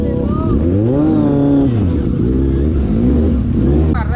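A Kawasaki Z800 motorcycle fitted with a full-system SC Project exhaust revs loudly and close, its engine pitch climbing and falling in repeated surges while a voice talks over it.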